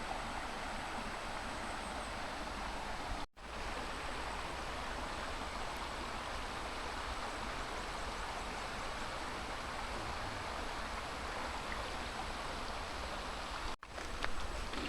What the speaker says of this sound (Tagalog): So, dito na kami sa ilog guys. Sapa.